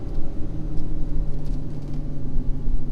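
A Ford F550 Powerstroke diesel truck towing about 30,000 lbs slows with its exhaust brake while downshifting, giving a steady, loud, low engine and exhaust drone that continues throughout without speech.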